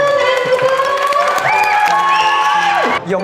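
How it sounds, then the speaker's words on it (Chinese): A crowd applauds and cheers to welcome a balloon artist at a children's event, with shrill voices and whoops over dense clapping that drops away at the end. "掌声加尖叫，欢迎我们的柯南哥哥"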